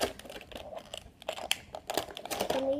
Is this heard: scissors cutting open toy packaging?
yes